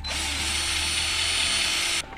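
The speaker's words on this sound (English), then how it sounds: "drill the holes for this bracket" A power drill whines steadily at high speed for about two seconds while drilling holes for a bracket on a mini bike, then stops.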